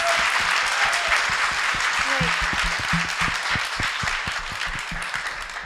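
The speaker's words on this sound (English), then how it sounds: "I think he deserves another round of applause" Loud, warm applause from an audience at a thesis competition final, many hands clapping steadily for several seconds with a few louder individual claps standing out, tapering slightly at the end.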